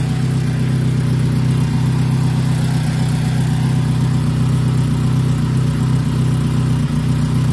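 A Peugeot 306 Griffe car engine idles steadily and close by, a constant low rumble with no revving or change throughout.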